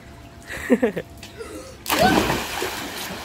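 A person jumps into a bath pool with a loud splash and sloshing water, preceded by voices and laughter.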